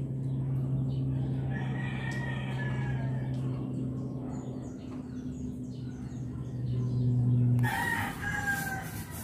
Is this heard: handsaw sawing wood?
no